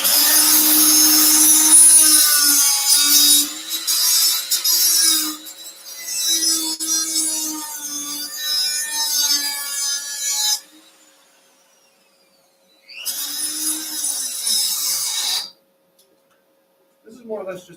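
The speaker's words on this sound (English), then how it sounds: "I'll use a little die grinder here with this last bit of this grinder" Small die grinder running on metal while preparing a tractor repair for flux-core welding, a whining buzz in several bursts that rise and fall, with someone talking over it at times and a short silent gap.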